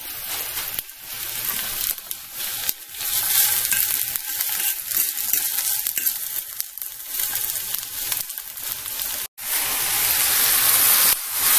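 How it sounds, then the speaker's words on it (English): Onions, mushroom, tomato, spinach and turkey sauté in a pan with a loud, steady sizzle. Stirring scrapes and clatters break through it now and then. "sauteing my onions. Gonna add in mushroom, a little bit of tomato, spinach, turkey"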